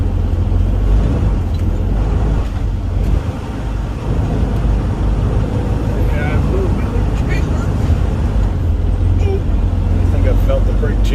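A semi truck driving through a corn maze, its engine a loud, continuous low rumble with constant road and cab noise, and a voice talking over it throughout.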